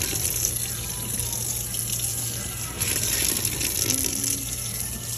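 Hot water runs steadily from a kitchen tap into a sink during dish soap making, a close, continuous gushing hiss with slight surges and no talk over it.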